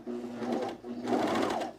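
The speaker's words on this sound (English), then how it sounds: "and now I am serging." A serger overlock machine stitches cargo shorts fabric in two close, steady whirring runs with a short pause between them, and no talk over it.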